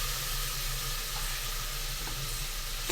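Vegetables with green chilies and chili powder frying in a pan for veg kurma, a steady close sizzle holding at an even level throughout with no talk.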